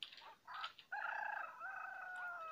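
A rooster crows in the video game Evil Nun 2, one clear, fairly near cock-a-doodle-doo with a long drawn-out final note, preceded by a few short clucks and with no talk.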